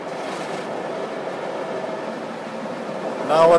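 A car sits inside an automatic car wash, heard from the cabin as a loud, continuous wash of rushing water and machinery that stays even throughout and grows slightly louder at the very end.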